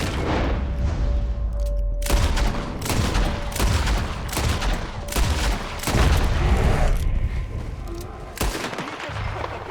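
Gunfire in the video game Red Dead Redemption 2, a series of loud sharp shots in rapid bursts repeating over several seconds.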